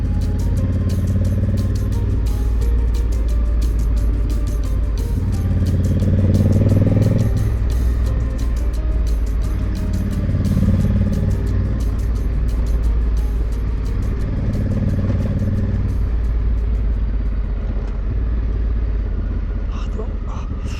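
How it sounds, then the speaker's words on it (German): Motorcycle riding along a road in the Argentine Andes, a steady low engine rumble running throughout with swelling surges, close and continuous, with people talking over it. "Wir können hier mit dem Motorrad durchfahren,"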